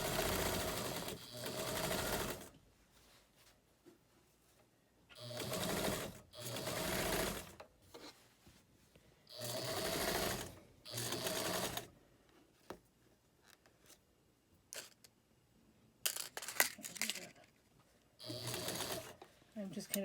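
A sewing machine stitches quilt pieces together across a thick denim seam in repeated bursts of rapid mechanical chatter, close and clear, separated by quiet pauses with faint handling noises.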